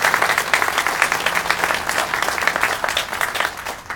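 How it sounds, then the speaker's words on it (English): Steady applause from an audience at a Dutchess County Department of Public Works event, many hands clapping densely and evenly for about four seconds at moderate loudness. "Would you also join me in a nice round of applause"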